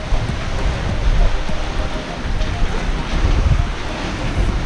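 Strong east wind buffets a sailboat on a beam reach, a loud continuous rush and microphone roar with surging gusts and wave wash underneath.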